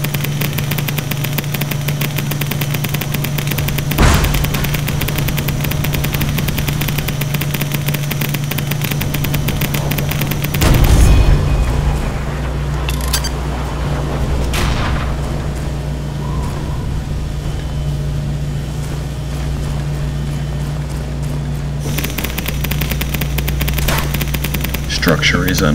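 Bursts of rapid gunfire and heavy weapon blasts in the combat game Nuclear Dawn ring out over a constant low mechanical drone, with sharp impacts around the 4 and 11 second marks and a brief calmer stretch before the shooting returns.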